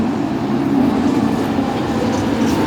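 A driverless metro train rumbles steadily into a station, a continuous low, close rolling drone with no voices over it.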